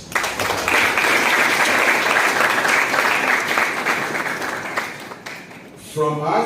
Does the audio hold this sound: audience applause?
yes